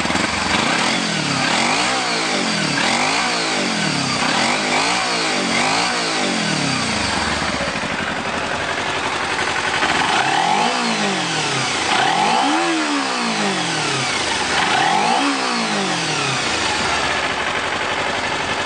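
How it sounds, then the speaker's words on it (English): A stock-muffler 2012 Kawasaki Ninja 250 engine runs steadily up close, blipped through repeated rising and falling revs with brief idles between, moderately loud and alone with no talk. "Let's crank it up and let you hear that 250."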